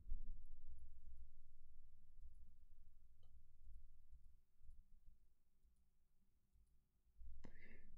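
Mouse clicks while scheduling a newsletter in SendinBlue, two faint isolated clicks several seconds apart over a quiet room hum.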